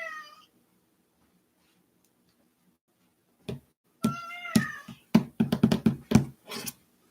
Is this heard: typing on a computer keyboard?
no